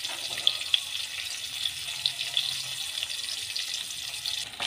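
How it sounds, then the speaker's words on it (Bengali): A peeled boiled egg frying in oil gives a steady bright sizzling hiss, close and even, with a few small pops. "এই ডিমটা ভাজা হচ্ছে।"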